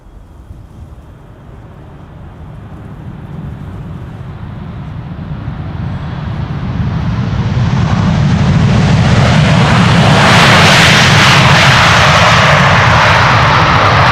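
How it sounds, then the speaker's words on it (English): Boeing 747-8 arriving at Schiphol Airport from Miami, a jet roar that swells steadily from a distant rumble to a loud, close, wind-buffeted drone as it passes overhead. "First up, the Queen of the Sky. Coming in, arriving from Miami, 747-8."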